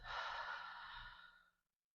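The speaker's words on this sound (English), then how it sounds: "we're going to take a nice inhale through the nose, and then we're going to exhale through the mouth" A single long, breathy exhale through the mouth during a full-body mobility routine, close and soft, swelling quickly and then fading out over about a second and a half into silence.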